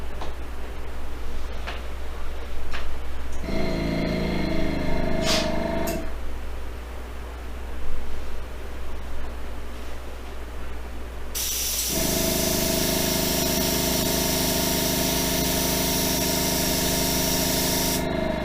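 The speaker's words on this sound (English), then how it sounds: "Now we'll turn the air compressor on and adjust pressure." An air compressor in a diecast paint and body shop starts up for spray painting and runs loud and steady, a continuous droning hum with a mechanical whine after some earlier clatter and ticking.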